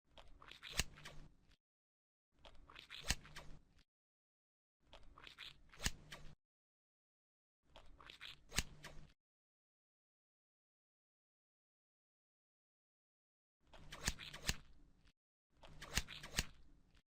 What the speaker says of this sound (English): Take the scissors and carefully cut across the layers so you can access the ocular cavity.